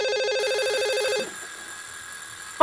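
A telephone rings with a brief repeating electronic tone that fades and changes, followed by a sharp burst at the end, in a quiet setting.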